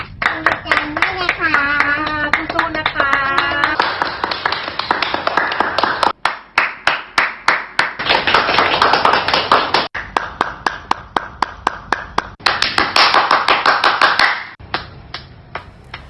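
Rhythmic hand clapping, close and loud, keeps a steady beat throughout while people talk and sing in between and under the claps.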